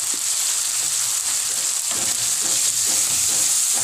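Vegetables for pinakbet sauté in a hot pan with pepper added, giving a steady, close, continuous sizzle with faint stirring scrapes throughout and no talking.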